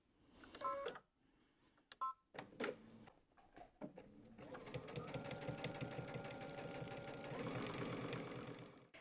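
A domestic sewing machine stitches the collar of a kimono pyjama, starting with a few short bursts and handling knocks, then running in a steady close whirring hum for several seconds.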